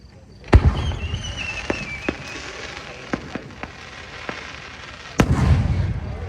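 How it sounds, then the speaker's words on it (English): A competition aerial firework shell bursts into a chartreuse-to-blue peony with gold strobing pistils and rising effects, giving sharp loud booms at the start and near the end, scattered crackling pops between, and a faint whistle. "Chartreuse to blue peony with gold strobing of pistols with rising effects."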